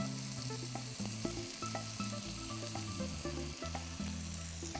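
Cleaned, large prawns drop into a pan of tomato for a spiced prawn curry, giving a soft, continuous sizzle with faint tonal hum and light clinks, heard close but quiet and without talk.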